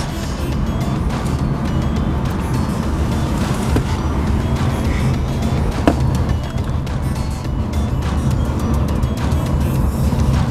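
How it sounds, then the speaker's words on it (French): A Renault Zoe electric car rolls at low speed with a window open, producing a steady broadband rush of tyre and road noise with occasional small knocks, fairly loud and constant. "Je fais un petit test à basse vitesse pour vous montrer le silence, vraiment impeccable."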